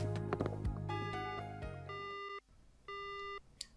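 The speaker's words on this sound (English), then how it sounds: "The phone call cuts off abruptly." A phone call in the video game Spirit Hunter: NG cuts off abruptly: electronic tones stop dead, then a short, steady beep follows after a brief gap of silence, clear and close.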